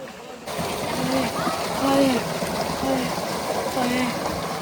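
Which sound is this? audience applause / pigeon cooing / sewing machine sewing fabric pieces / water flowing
water flowing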